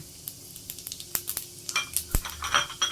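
Whole spices, poppy seeds and cloves crackle in a pan over low flame for chicken chops, a light sizzle punctuated by frequent close ticks, pops and utensil scrapes.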